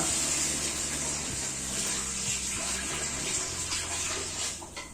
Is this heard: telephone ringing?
no